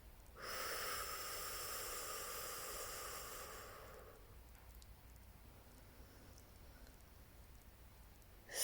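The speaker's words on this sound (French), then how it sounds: "Trois lentes et profondes respirations" Slow, deep breathing, quiet and close, with a long airy inhale-exhale at the start that fades into soft, faint breaths and near-silence.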